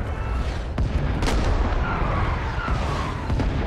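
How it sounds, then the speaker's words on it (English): An artillery barrage pounds a Rising Storm 2 battlefield, with deep rolling booms and sharp cracking impacts landing in quick succession over a continuous rumble. "That's the fourth barrage."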